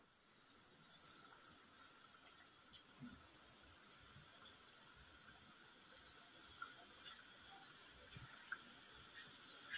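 Chicken pieces deep-fry in hot oil on a high flame, a continuous bright hiss and sizzle with scattered tiny crackles, moderately faint and steady with no voices.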